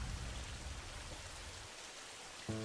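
Rain falls in a continuous soft hiss of drops on surfaces, faint and even, with a brief tonal sound at the very end.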